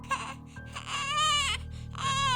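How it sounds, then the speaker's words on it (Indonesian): A baby cries in a horror story at night, a close, wavering, high wail with short whimpering breaks, rising and falling over a low background hum. "bayi siapa tuh nangis malam-malam?"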